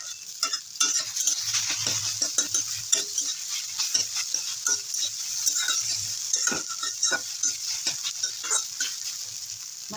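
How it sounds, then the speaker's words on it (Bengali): Egg bhujia, a spiced egg scramble, sizzles steadily in a pan while a utensil stirs and scrapes it in frequent irregular clicks. The sound is close and continuous, with no talking. "এখানে আমি ডিমের ভুজিয়া বানিয়ে নিলাম।"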